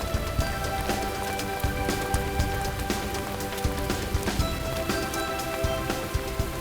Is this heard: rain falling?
yes